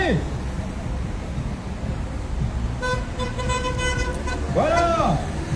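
Car horns honk at a street protest in Antibes: several toots near the end, including a wavering tone, over traffic rumble and wind, with people talking throughout.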